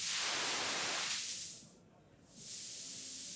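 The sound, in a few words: white noise from synthesizer module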